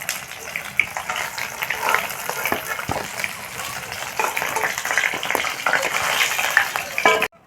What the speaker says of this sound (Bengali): বাকি মাছগুলো আমি একইভাবে ভেজে নেব।